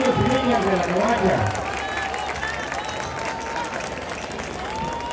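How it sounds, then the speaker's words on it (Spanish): Crowd applause for the children of La Covacha at a Xantolo celebration in Tempoal, a loud burst of clapping at first that settles into steadier, lighter clapping mixed with crowd noise and chatter. "A ver, fuerte los aplausos para estos niños y niñas de la covacha."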